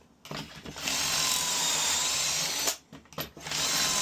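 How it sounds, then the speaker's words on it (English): A power drill with a stepped drill bit whines steadily as it bites through material, briefly pausing near the end before starting up again. "and just drill it away."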